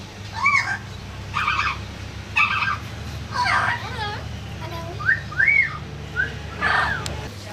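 Birds at Maleny Botanical Gardens in Australia give a series of clear, warbling whistled calls, some rising and falling in pitch, in bursts over a steady low background hum.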